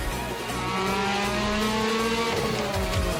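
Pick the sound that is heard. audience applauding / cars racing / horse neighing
cars racing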